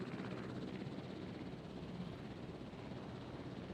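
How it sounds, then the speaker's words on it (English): A helicopter in Jurassic World Evolution hovers nearby, its rotors making a steady, muffled, rumbling drone that stays even and fairly quiet throughout. "the chopper's still hanging around"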